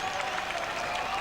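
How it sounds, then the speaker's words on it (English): A stadium crowd applauds at a 1996 Queensland Cup rugby league preliminary final between Toowoomba and Wests, a steady wash of clapping heard from a distance. "Yeah, well and truly a deserved round of applause there."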